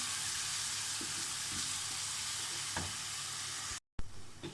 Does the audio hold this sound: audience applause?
no